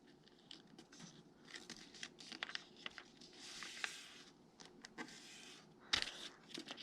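Sheets of paper crinkle and crease softly as they are folded into a paper airplane, a quiet series of close rustles and sharp creases with no voices.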